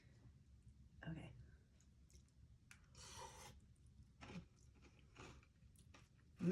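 Someone chews lemon tagliatelle pasta with a crispy, crunchy topping close to the microphone, giving soft, intermittent bites and crunches under low, quiet sounds.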